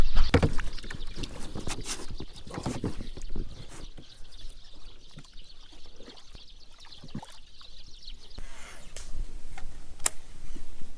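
A kayak paddles along a ditch in the early morning, with close water splashes and dribbling drips from the paddle strokes and light hull knocks in a quiet outdoor setting.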